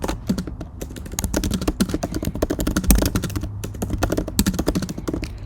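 Rapid typing on a computer keyboard while writing a one-line code comment in a Roblox script, a dense close run of crisp key clacks with a few brief pauses, loud and without speech.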